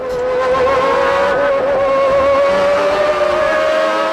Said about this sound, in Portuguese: todo o trabalho que o Senna tinha para controlar a McLaren